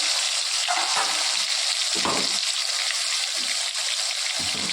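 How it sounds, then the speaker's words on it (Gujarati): A paste of onion, tomato and green chili hits hot oil in a pan, giving a loud, continuous sizzle. Brief scraping stirs break into the hiss now and then. "આપણે એને વઘારી સૂકી ડુંગળી, ટામેટું અને લીલું મરચું"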